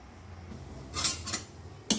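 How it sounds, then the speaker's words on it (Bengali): Raw green mangoes are cut with a knife, giving a few short, crisp slicing and scraping strokes against a board or dish, close and otherwise quiet. "এইভাবে আমগুলো কেটে"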